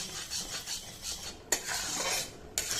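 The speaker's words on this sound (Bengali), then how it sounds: "আর দেখো বাকি গুড়টা এখানে জাল দিচ্ছি" Jaggery boiling down in a pan, stirred with a utensil: a steady scraping, bubbling hiss with two sharp clicks of the spoon against the pan, close and alone.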